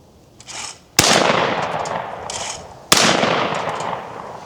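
A Franchi 48AL long recoil automatic shotgun fires two loud, sharp blasts about two seconds apart, each followed by a long echoing roll outdoors, with a quieter mechanical rustle before the first shot.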